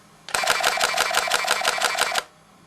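Canon EOS 40D shutter firing a continuous burst in live view mode: a rapid, even train of about fourteen crisp mechanical clicks over roughly two seconds, close and alone.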